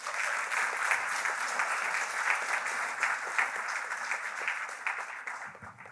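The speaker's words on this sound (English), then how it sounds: "Please join me in giving them a round of applause." Steady, full applause from a graduation ceremony crowd honoring college officials, many hands clapping at an even, sustained level for several seconds before easing off.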